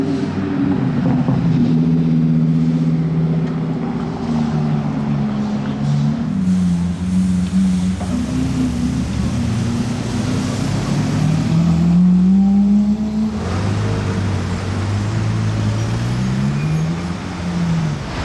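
A powerful Audi R8 sports car engine rumbles and revs nearby in Monaco, its pitch rising and falling over steady road noise, without any talking.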